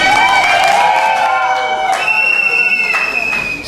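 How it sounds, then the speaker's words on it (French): A crowd applauds steadily at a ceremony, a dense wash of clapping with voices and a few bright tones carrying over it. "Applaudissons, s'il vous plaît."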